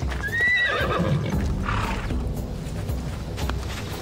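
A horse in Assassin's Creed Odyssey gives a loud, clear neigh near the start, followed by a steady run of clip-clopping hooves continuing under the game's ambient sound.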